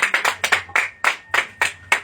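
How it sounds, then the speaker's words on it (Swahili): A church congregation claps hands in praise, a clear close series of about a dozen sharp claps in a loose, slightly uneven rhythm with brief quiet gaps between them. "tushangilie Bwana kwa makofi"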